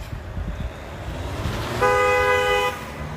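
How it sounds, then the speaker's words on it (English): A single steady car horn blares for about a second over rumbling road and engine noise, sounding fairly close. "I got honked at, even though I was"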